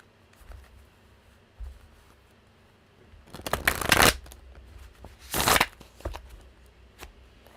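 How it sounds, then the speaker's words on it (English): Tarot cards being shuffled by hand, with a few soft taps and riffles followed by two loud, dense bursts of rapid card flutter, close and distinct with no talking. "Let's shuffle some more."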